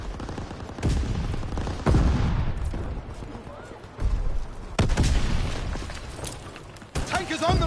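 Rapid volleys of rifle and machine-gun fire with heavy booms ring out in a Call of Duty WWII battle around a tank crossing a bridge, loud bursts separated by brief lulls, with shouted voices mixed in.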